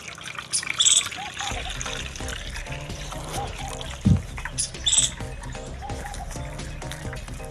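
Water trickles and splashes into a container in uneven pours, with a few brief chirpy bird calls in the background.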